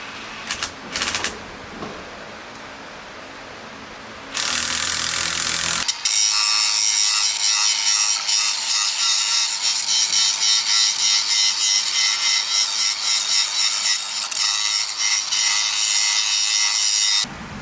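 Brush scrubbing tire lube onto a new hose on a manure tank, a steady, loud rasping rub that continues for many seconds after some brief scraping at the start.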